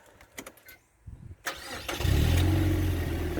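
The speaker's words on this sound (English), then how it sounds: "So we'll turn the vehicle on." A Mazda MX-5 2.0i roadster is started from inside the cabin: a few clicks and a brief starter crank, then the engine catches and settles into a steady, loud close idle rumble.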